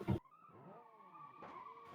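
Race car in the Automation racing game, a modern muscle car, thumping over a hill crest: a brief hard knock, then a steady engine drone with shifting pitch, moderately loud, and another impact near the end.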